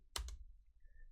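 Brief burst of two or three quick keystrokes on a computer keyboard while entering a command for a Hack the Box file-transfer exercise, close and fairly quiet, followed by near silence with a faint tone.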